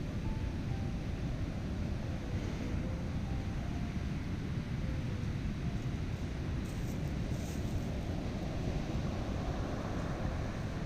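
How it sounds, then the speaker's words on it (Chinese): Ocean surf breaks on Rialto Beach, a pebble and driftwood shore in Olympic National Park, as a continuous low rumbling roar with strong wind noise over the microphone and no distinct single waves. "里亚托海岸海浪阵阵，涛声隆隆"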